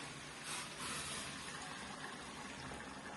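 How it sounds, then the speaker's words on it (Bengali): Hot water poured into a pan of fried masala for a mango-flavoured chicken curry, a steady close gushing splash running alone for about three seconds. "এবার গরম জলটা দিয়ে দেবো এর মধ্যে আন্দাজ মতো"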